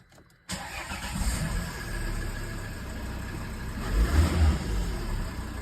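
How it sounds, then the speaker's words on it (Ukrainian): A Volvo V50 D4 diesel engine cranks and catches after a brief silence, then settles into a steady close idle with a slight rev partway through. "Так, запускаємо автомобіль."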